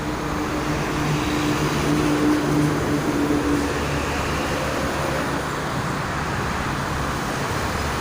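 Steady traffic on the Jakarta–Cikampek toll road, mostly freight trucks and expedition lorries, rumbling past as a continuous roadway drone with a faint engine hum running through it.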